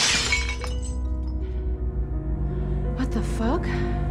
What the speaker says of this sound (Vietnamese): chiếc gương bất ngờ vỡ tan